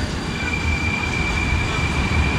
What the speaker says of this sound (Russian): Такой вот новенький поезд.